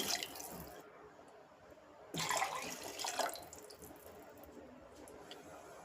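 Water poured into a pot of rice for drumstick-leaf pulao, three cups of water to two cups of rice: a soft, close splashing pour that swells briefly in the middle, with no talking.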